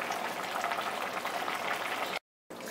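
Boiled rice being drained of its cooking water for Tamil-style paneer biryani, a steady close hiss of pouring and bubbling liquid that cuts out briefly near the end before resuming.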